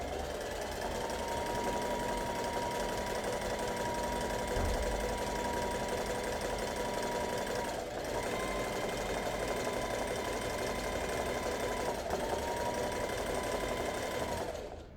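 Sewing machine doing zigzag free-motion embroidery of an Art Nouveau flower, running continuously at a fast steady hum for the whole stretch, near and loud, with brief dips in speed and no talk.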